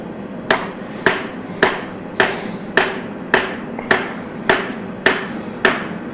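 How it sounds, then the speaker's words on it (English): Steady hammer blows ring out along the bevel of a forged blade, about ten sharp metallic strikes at an even pace of roughly two per second, close and loud, each with a brief ringing decay. "I'm going to hammer along my bevel, which will give me a slightly more curved blade instead of just flat."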